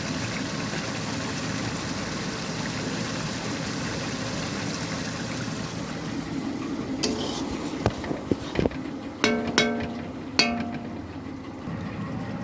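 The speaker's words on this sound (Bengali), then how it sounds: "দেখতেই পাচ্ছি আমার মশলাটা প্রায় ভাজা হয়ে গেছে, কষানো হয়ে গেছে।" Spice masala paste fries in a pan, a steady low sizzling hiss at first, then sharp metallic scrapes and clatters of a spoon stirring against the pan in the later seconds.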